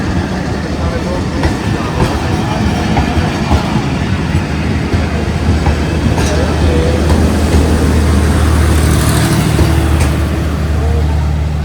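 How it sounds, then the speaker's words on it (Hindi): Train pulling out of a station at the start of a journey to Islamabad, a loud steady rumble of rolling wagons with faint rhythmic clatter, heard close from the platform or aboard. "ट्रेन चल पड़ी है, रवाना है अब यहाँ से।"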